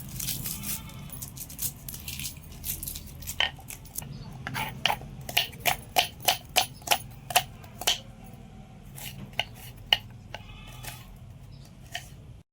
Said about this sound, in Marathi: एक कांदा घेतला, कांदा कापून घेतो बारीक